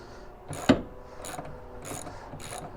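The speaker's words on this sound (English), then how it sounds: "So now what I can do is I can get a socket. We can undo those bolts on the top of the seat belt." A 14mm socket ratchet undoing seat belt bolts on a Toyota MR2, four short bursts of ratcheting clicks with sharp knocks in between, close and fairly quiet.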